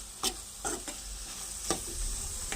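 Ridge gourd and meal maker frying over high heat in a pan, a continuous bright sizzle with several short bursts of stirring or spatula scrapes.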